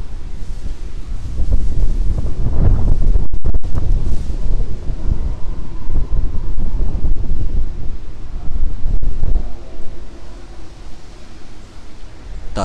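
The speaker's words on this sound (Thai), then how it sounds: "ลมแรงมากเลยครับตอนนี้ครับด้านนอก" Strong wind buffets the microphone outdoors at a temple ceremony in Suphan Buri, producing loud, continuous low roaring gusts and rumble that swell and ease over several seconds.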